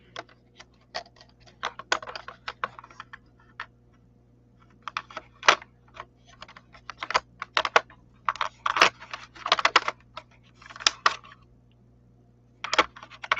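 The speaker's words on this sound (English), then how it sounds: "I'm organizing my pencils on live" Colored pencils being sorted and handled during a coloring session give scattered, quiet clicks and wooden taps in irregular bursts, close by with no talking.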